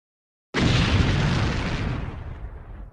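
An explosion sound effect bursts in suddenly after a short silence, a loud, deep boom that rumbles and slowly fades over the next two seconds.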